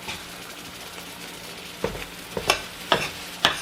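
Chicken cacciatore sizzles in a pan under a soft, steady fry, then four sharp stirring scrapes or clacks land in quick succession toward the end.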